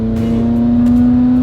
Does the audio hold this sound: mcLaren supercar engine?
yes